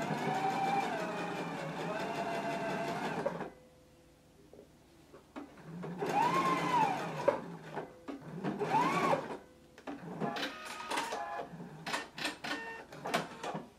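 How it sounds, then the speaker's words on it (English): Sewing machine stitching a 5/8 inch seam on a pants pattern, with backstitching at each end: a steady mechanical whir for several seconds, a pause, then shorter bursts of stitching and a few quick stops and starts, close and alone. "we're going to stitch between this large circle and this notch at a 5/8 inch seam allowance and make sure that you back stitch"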